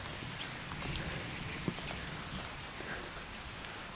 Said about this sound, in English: Most of the rain comes down there, on the left side somewhere.